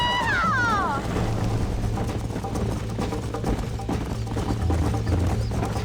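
Hooves clatter in a fast, continuous gallop as a horse runs in the video game Red Dead Redemption, loud and rhythmic, opening with a whinny and accompanied by music.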